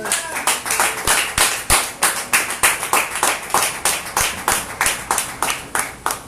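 A church congregation claps hands in a steady, rhythmic beat, roughly three claps a second, loud and close, with faint voices underneath.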